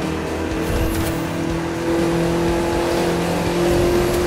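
A car engine drones steadily with a sustained hum and road noise in the racing video game The Crew 2, heard from near the hood, fairly loud and continuous, with no speech.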